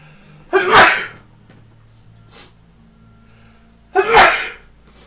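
Two loud sneezes, close up, a few seconds apart, with quiet in between.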